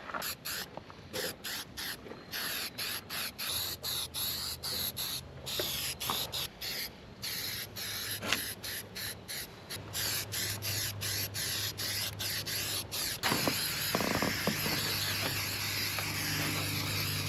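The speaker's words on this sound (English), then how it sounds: "we'll go ahead and hit it with some rust converter just to help protect and keep that from rusting out" Rust converter is sprayed onto surface rust on the body of a 1940 Plymouth Deluxe in repeated short hissing bursts that merge into a longer steady spray, close to the listener.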